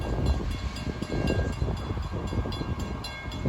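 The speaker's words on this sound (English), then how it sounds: "comes a train." A CP train rolls past, a steady, full-bodied rumble with faint rhythmic clatter that holds for the whole stretch, with no voices over it.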